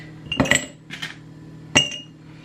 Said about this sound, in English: Add ice into glass and pour contents.